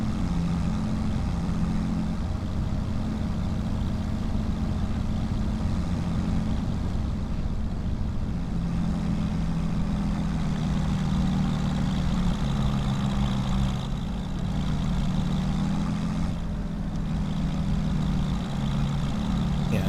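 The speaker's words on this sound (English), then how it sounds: "This tractor is a bit low on power" Farm tractor, somewhat underpowered, hauling a load of nearly 10,000 litres of apples up a short climb, giving a steady, continuous low engine drone that stays close and constant throughout, with no talk over it.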